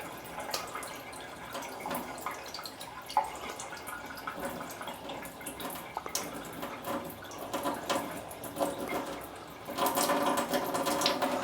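Water pours and splashes steadily into a sink as it is drained off settled yeast, with dripping and a louder gush of flow near the end, no voices.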